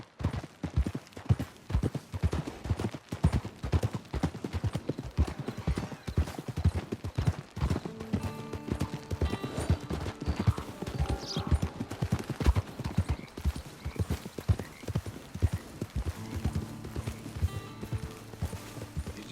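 In the video game Red Dead Redemption 2, a horse's hooves clip-clop in a steady, brisk rhythm, close and loud for the whole stretch. A faint whinny and some creaking of tack occur along the way.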